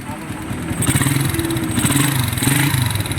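A motorcycle exhaust rumbles and revs nearby, its rough engine note rising and falling, with a voice speaking over it.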